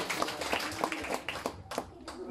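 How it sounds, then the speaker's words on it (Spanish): Family clapping at a 62nd birthday party after the candles are blown out in a Oaxaca village, a short burst of close, uneven handclaps with chatter and voices underneath. "Ahí están los aplausos."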